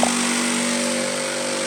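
Power drill bores into a rusty, roughly 50-year-old car during heater core and gearbox replacement, giving a brief, steady, close-up motor whine at constant pitch.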